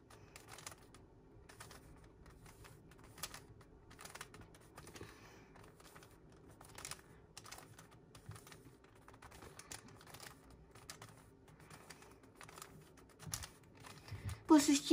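A 3x3 Rubik's cube turned with left-hand moves, a rapid series of soft plastic clicks and clacks with faint speech, louder handling at the end.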